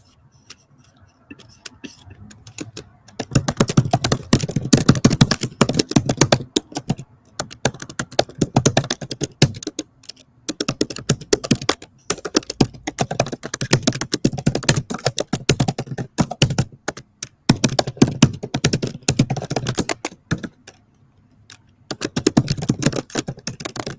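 Rapid clattering keystrokes on a computer keyboard while a caption is typed, coming in dense bursts separated by brief pauses, close and alone without talk.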